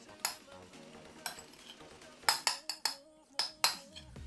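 Bluefin tuna mixed by hand in a bowl with negi: a series of sharp clinks and taps against the bowl, irregular and fairly close, with quiet background between.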